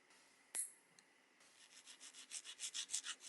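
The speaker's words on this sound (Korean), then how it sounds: "파일을 눕혀서 쉐입을 잡아주면 된답니다" A nail file shapes fingernails into a pointed shape, a quiet close rasping that begins after a sharp tap and builds into a steady run of rhythmic back-and-forth strokes, about two per second, with no talking.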